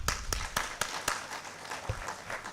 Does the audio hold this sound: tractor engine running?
no